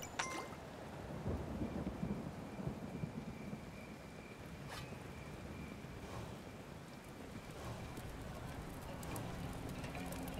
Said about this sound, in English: this is definitely the Blood Moon sound